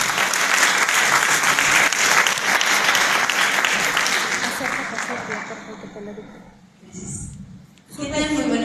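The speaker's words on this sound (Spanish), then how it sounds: "Recibamos a la maestra con un fuerte aplauso." An audience greets a teacher at an academic talk with loud, dense clapping that holds steady for several seconds, then thins and fades, followed by a brief spoken voice and a final swell of noise.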